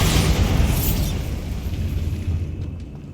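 A Bombarda spell blast goes off in Hogwarts Legacy as a loud, rumbling boom with a broad roar that slowly fades over a few seconds.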